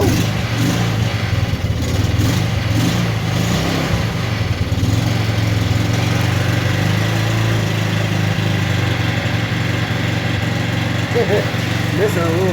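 A go-kart engine runs just after a cold start, a loud, close, buzzing idle that stumbles and misfires unevenly, with voices talking over it.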